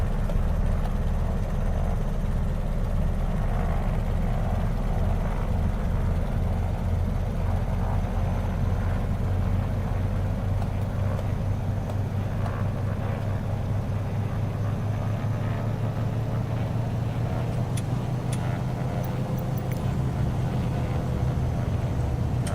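Engines of a Beechcraft Model 18 taxiing in Microsoft Flight Simulator, a steady, loud, continuous drone with a low rumble that holds evenly throughout, with no voices over it.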